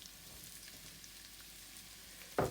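Onion and carrot frying in a pan for a chicken stir-fry, a faint steady sizzle that ends in a sudden loud hiss as more goes into the pan.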